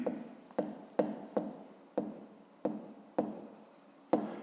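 A pen or chalk writes out a fifth-grade math solution by hand, a steady run of scratchy strokes with regular taps as each new mark begins, close and moderately quiet.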